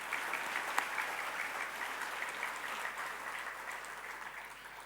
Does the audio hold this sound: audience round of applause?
yes